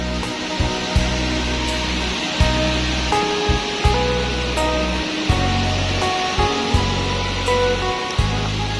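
The Tad Lo waterfall in Salavan, Laos, pours with a constant broad roar of falling water, and a few sharp, regular knocks come through over it.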